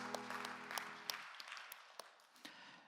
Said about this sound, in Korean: 우리 박수로 서로의 삶을 응원하고 축복합시다.